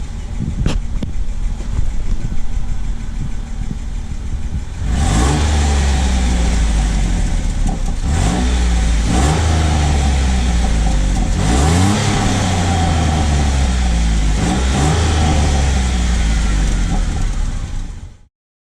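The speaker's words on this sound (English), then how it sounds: "I'll go ahead and give you guys a nice stock exhaust sound" A Jeep Wrangler with a 3.8L V6 on its stock exhaust idles with a low rumble, then is revved repeatedly, each throttle blip rising and falling in a loud, close, rhythmic series.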